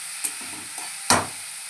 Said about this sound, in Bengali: এবার এটা আমি ভাজবো, এই মশলাটাকে ভাজবো।